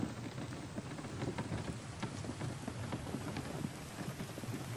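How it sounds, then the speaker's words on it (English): Rain falls steadily in the survival video game The Infected, a constant dense patter of drops with faint low rumbles underneath, quiet and even with no talk. "It's raining."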